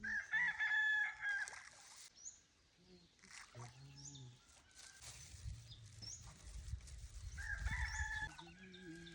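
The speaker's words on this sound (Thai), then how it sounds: "ไก่" A rooster crows loudly and nearby, its drawn-out call rising over clucking chickens and other birds in a rural yard, with people talking in the background.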